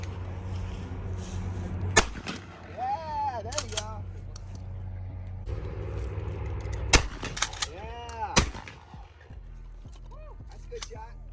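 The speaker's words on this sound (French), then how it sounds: "je vous mets des vidéos d'un fusil à pompe similaire d'un ami" A pump-action shotgun firing at clay pigeon shooting: two loud, sharp blasts several seconds apart, each followed by a quick burst of clattering, amid outdoor background noise with voices nearby.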